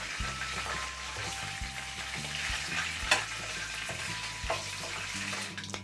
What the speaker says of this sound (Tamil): இப்போ கடுகு பொரிய ஆரம்பிச்சிச்சு